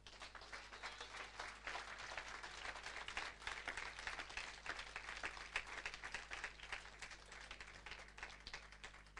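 Church congregation applauding together, a dense, steady wash of many hands clapping throughout, fairly distant and even in level.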